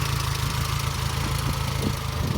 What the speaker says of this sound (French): on a un petit moteur vraiment très propre et fort sympathique